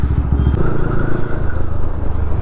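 A KTM Duke 250 motorcycle drifting, its engine close and loud with a rough, sustained growl and scraping clatter, running steadily throughout with no speech.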